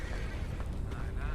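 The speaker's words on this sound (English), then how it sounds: "The horse got hit by the train." A train strikes a horse in the Red Dead Redemption video game, giving a dense, loud low-pitched rumbling impact that holds steady through a short burst.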